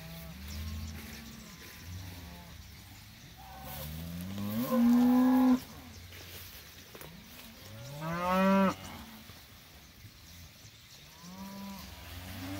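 Cows bawl repeatedly while grazing a cocklebur field, a few long loud bawls standing out over quieter lowing from the herd nearby, with no talking.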